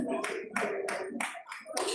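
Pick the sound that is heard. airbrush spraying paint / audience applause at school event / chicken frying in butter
audience applause at school event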